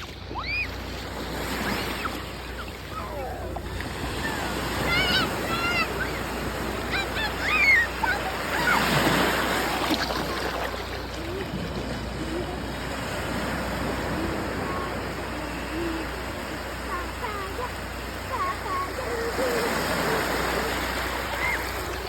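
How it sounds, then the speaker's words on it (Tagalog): Steady wash of ocean surf at the beach in Baler, with rolling waves breaking continuously under wind, plus faint distant voices mixed into the roar. "Dito maganda yung alon."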